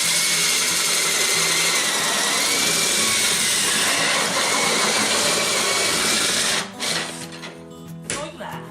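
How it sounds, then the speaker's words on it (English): A drill bores a hole into thin plastic, a steady loud whining buzz that runs continuously before cutting off and sputtering in a few short bursts near the end. "What you've got to watch out when you're drilling into plastic is it can grab."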